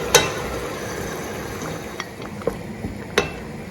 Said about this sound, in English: To go ahead and add our blended tomatoes and pepper.